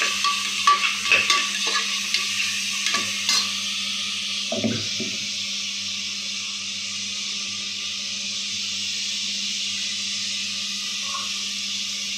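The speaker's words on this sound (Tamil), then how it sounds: "தக்காளி வெங்காயம் நல்லா போட்டு வதக்கிட்டு நல்லா வணங்கணும்" Tomato and onion sauté in a pan for egg biryani, giving a steady hiss of frying with a few clinks and scrapes of stirring early on and one dull knock midway.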